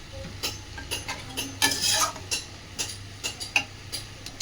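Spatula stirring a paste of mustard, cumin, onion and green and dried chilli with vegetables in a pan, a run of scraping strokes with light sizzle underneath, close and fairly quiet with no talk.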